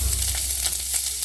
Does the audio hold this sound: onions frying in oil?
yes